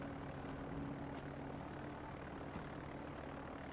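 A plane takes off in the Far Cry 4 video game, heard as a steady, fairly faint propeller and engine drone that holds evenly throughout.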